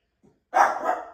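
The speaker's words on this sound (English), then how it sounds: "Good boy. No more barking." An animal lets out a single loud, close bark after a faint soft yelp, one sharp burst that tails off quickly indoors.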